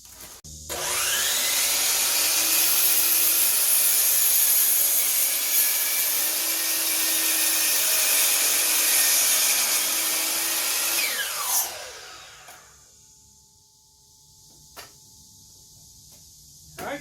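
Power saw cutting through clamped wooden boards for a canning shelf, one steady loud continuous cut lasting about eleven seconds before winding down, close by.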